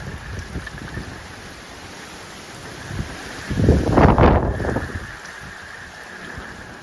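Steady windy rush with rain noise from Hurricane Nicole in Vero Beach, Florida, swelling into a louder gust midway before easing back to a constant blustery hiss.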